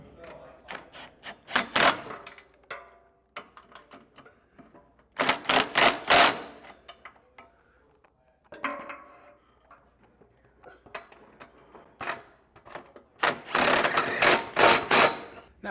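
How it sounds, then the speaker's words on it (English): Bolts on a trailer hitch being fitted to a 2021 Nissan Rogue Sport are snugged with a ratchet, giving bursts of rapid close clicking separated by short pauses. "Now we can go ahead and snug our bolts up."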